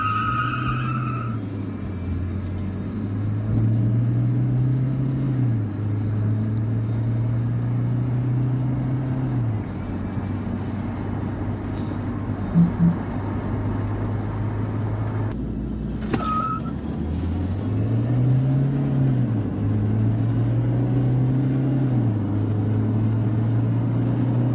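A Toyota Innova engine with a stock exhaust system drones steadily and loudly throughout, with rising and falling revs several times and a brief squeal near the middle.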